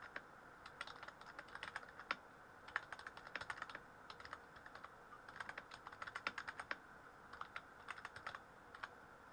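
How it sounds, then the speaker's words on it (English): Computer keys are typed in quick, irregular bursts of crisp clicks with short pauses between runs, fairly close and with no talking. "I need a quieter keyboard."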